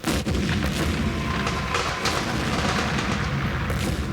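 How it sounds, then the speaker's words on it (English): Booming fireworks played as a sound effect in a school stage production of Charlotte's Web form a loud, continuous rumble with repeated deep thuds and bursts, and no voices over it. "it's the fireworks."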